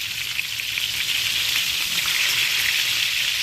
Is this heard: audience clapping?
no